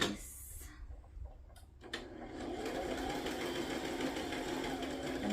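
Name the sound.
sewing machine stitching around fabric edges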